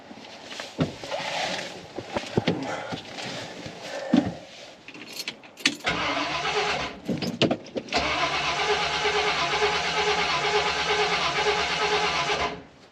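An old farm truck coughs with clanks and rattles, then its engine turns over and catches, settling into a loud, steady, rough idle close by.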